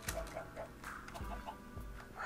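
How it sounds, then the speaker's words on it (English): Chicken clucking in the video game Minecraft: a few short, soft clucks spread over a couple of seconds, faint and moderately distant, with no talking. "I hear another chicken."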